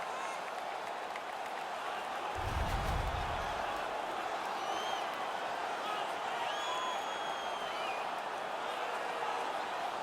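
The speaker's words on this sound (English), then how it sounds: "The home crowd is ecstatic." Home crowd cheering at an NHL 19 hockey game, a steady, dense roar of applause and noise throughout, with a short deep rumbling swell early on.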